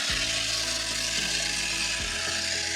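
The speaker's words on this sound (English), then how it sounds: "Shake the can and then go for a good healthy spray." An aerosol can of ERRECOM evaporator cleaner for a car's A/C system is shaken hard, giving a continuous close rattling clatter with a dense hissy wash and a few sharper knocks, with no voices.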